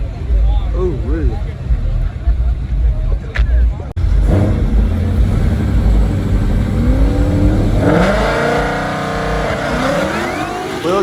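Drag race cars, including a twin turbo LSX car and a CTSV, accelerating hard down the strip, loud engine roar building and revving with tire noise, while people talk and shout over it nearby.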